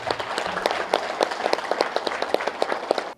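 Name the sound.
audience applause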